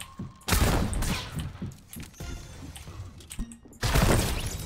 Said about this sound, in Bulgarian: Тук се стреля.